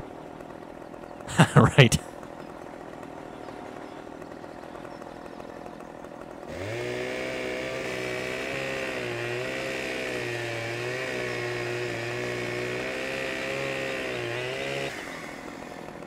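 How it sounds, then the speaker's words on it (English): A Husqvarna 550 XP chainsaw in a farming video game revs up and runs steadily with a buzzing, wavering engine drone for several seconds, then cuts off, after a brief clattering burst and a spoken word. "Chainsaw. Let's see what's here. About a Husqvarna. 550 XP."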